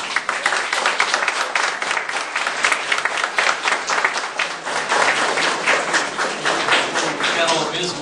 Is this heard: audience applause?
yes